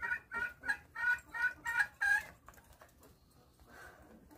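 Pet chickens cluck while eating, giving a rhythmic run of about seven close, fairly loud clucks before they fade to softer, sparse murmurs.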